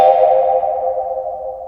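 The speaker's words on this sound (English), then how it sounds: "I sampled a little hand drum. And after sending it to a chorus ensemble effect and a reverb" A single soft hand drum hit, sampled on an Ableton Move, rings out into a long, wavering tone, smeared by a shimmering chorus ensemble effect and a lingering reverb tail that slowly fades.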